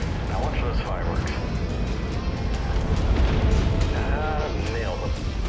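A battlemech explodes after a core hit in the MechWarrior 5 video game, giving a dense, continuous roar of heavy blasts and rumbling booms, with game voices talking over the din.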